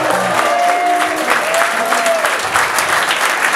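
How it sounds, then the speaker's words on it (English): Steady, dense applause from an audience at a gala awards dinner, loud and sustained throughout with a faint voice briefly underneath. "Ladies and gentlemen, a massive round of applause for Jenny and Trish."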